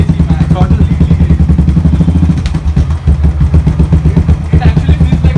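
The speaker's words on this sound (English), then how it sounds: "now it's time to hear my bike" A Royal Enfield BS4 motorcycle engine runs close by with a loud, steady throbbing exhaust, its rapid pulses holding an even rhythm throughout.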